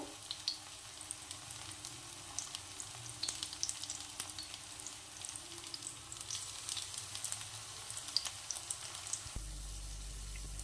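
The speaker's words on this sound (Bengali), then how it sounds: "বড়াগুলোর কিন্তু এক পাশ ভাজা হয়ে গেলে এভাবে উল্টে অন্য পাশে ভালো করে এরকম লাল লাল করে ভেজে নেব" Jute leaf fritters fry in hot oil, giving a steady, close crackling sizzle with light stirring and turning through the whole stretch and no talk.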